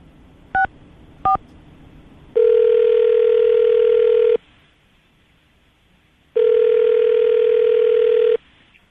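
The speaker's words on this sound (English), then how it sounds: "I'm going to dial the phone number, see if we can get her on the phone" Two brief DTMF key tones from dialing a phone number, then two long steady ringback tones separated by a pause, heard loud and clear over a phone line during a radio show call, with no voices.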